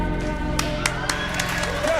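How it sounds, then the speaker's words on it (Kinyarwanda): An audience applauding at a ballerina performance: a steady patter of clapping runs throughout under a loud music and voice bed, with a few sharper claps standing out. "Amashyi."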